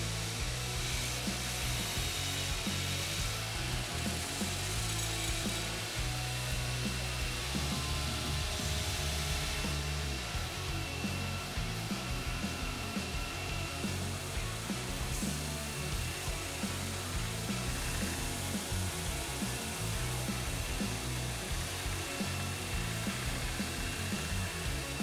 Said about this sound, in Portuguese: Aproveito para tirar umas rebarbinhas aqui na lixadeira de cinta